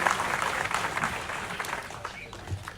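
Audience clapping after a speech at a People Power movement gathering, a busy patter of many hands with scattered sharper claps, gradually easing off in volume.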